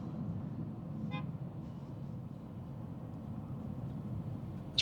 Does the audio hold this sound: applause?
no